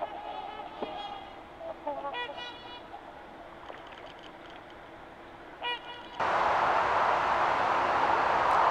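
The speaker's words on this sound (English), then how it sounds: "The Canadian goose does not seem to mind and continues looking for his breakfast." A Canada goose at the Severn River gives several scattered, nasal honks at moderate distance, then a loud, steady broadband rush abruptly takes over near the end.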